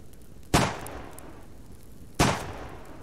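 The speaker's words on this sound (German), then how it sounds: "Zwei Schüsse!" Two sharp gunshots in the video game Subsistence crack out about a second and a half apart, each with a brief decaying tail over a low background hum.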